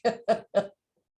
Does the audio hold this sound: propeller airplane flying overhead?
no